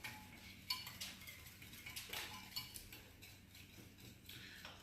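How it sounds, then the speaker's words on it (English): A whisk clicks and ticks against a bowl while Caesar salad dressing is beaten, a quiet, close, steady run of light metallic taps with no talking. "All the while whisking, whisking, whisking away"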